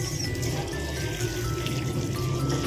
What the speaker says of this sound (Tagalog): So ayan, maglalagay na tayo ng water. Huhugasan natin itong mabuti ng 3 beses.